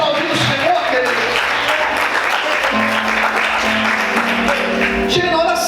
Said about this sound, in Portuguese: Você pode aplaudir o Senhor, querido?